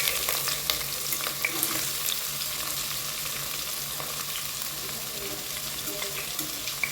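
Chopped big onions frying for mutton curry in Tamil home-style cooking, a steady close hiss and crackle of oil throughout with light stirring scrapes and no voices.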